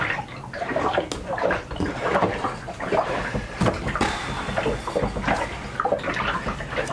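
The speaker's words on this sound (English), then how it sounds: "Tip from the guys at Spectra is to put the block in soapy warm water to get the seals more flexible, softer." Watermaker block from a Spectra unit being dunked and moved around in a tub of warm soapy water, with repeated close sloshing and splashing bursts throughout and no talking.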